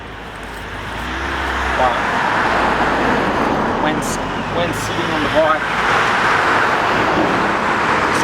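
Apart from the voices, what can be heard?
cars passing by on the road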